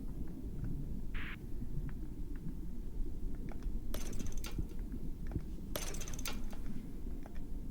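A rotating wheel mechanism in the puzzle game We Were Here Forever gives off soft ratcheting clicks and mechanical whirs over a low rumbling hum, with a few brighter bursts as it turns.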